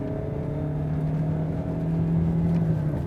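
A Mazda 3 with a 1.6-litre diesel engine accelerates with a steady, rough, droning hum that rises slightly in loudness, heard from inside the car.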